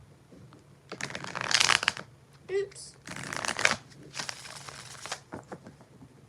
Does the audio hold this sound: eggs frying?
no